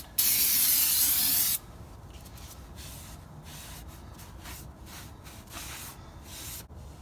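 Aerosol degreaser sprays in one loud, steady hissing burst for about a second and a half onto a Nissan Titan rear differential housing. Quieter rubbing and handling noises follow.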